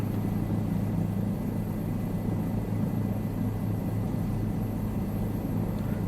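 A helicopter in Microsoft Flight Simulator flies over Prague, its steady rotor and engine drone holding a constant, loud low rumble throughout with no talking.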